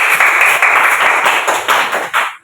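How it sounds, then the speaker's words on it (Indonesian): Classmates in an Indonesian classroom clap for a fellow student. The clapping is close and loud, dense and steady for a couple of seconds, then cuts off abruptly. "berikan tepuk tangan untuk teman kita"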